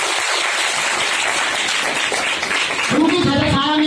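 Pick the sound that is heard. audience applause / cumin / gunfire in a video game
audience applause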